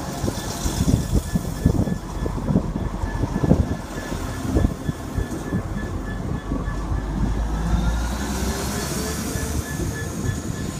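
A Class 175 diesel train, unit 175106, pulls out of platform 3 at Cardiff Central station, with rumbling engine, clattering wheels and faint squeals rolling steadily past at close range, without any voices.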